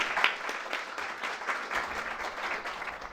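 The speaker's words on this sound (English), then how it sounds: "let's all join in a warm applause for Dr." Warm audience applause greets a speaker at an academic talk on global development, a dense, even wash of many hands clapping, moderately distant and fairly quiet, with no speech over it.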